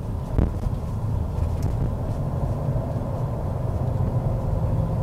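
Toyota Yaris Cross Hybrid or Honda HR-V RS rolling over paving blocks, a steady loud low rumble of tyre and road noise heard from inside the cabin, continuous throughout with no talk.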